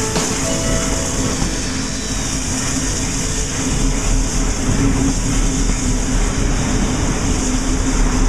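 Steam train rolling along rails, a steady loud rumble with faint rhythmic clicking of wheels over track joints, continuous and unbroken, with no voices.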